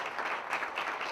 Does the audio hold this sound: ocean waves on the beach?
no